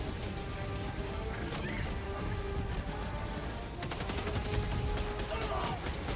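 Turret gunfire in the video game Helldivers rattles in rapid, dense bursts at a distance, faint and thickening into a steadier barrage partway through.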